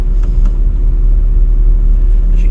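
Steady low rumble inside a moving car, with a constant engine and road drone, close and fairly loud, and no talk.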